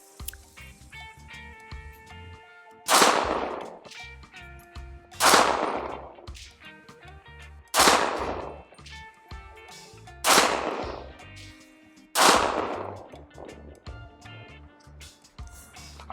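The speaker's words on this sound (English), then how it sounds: "next up we're gonna fire the subsonic. This is again the Gemtech 208 grain stuff." A Daniel Defense 300BLK PDW fires five Gemtech 208-grain subsonic rounds, each a loud, sharp crack with a short decaying tail. The shots are evenly spaced about two and a half seconds apart, with no talking.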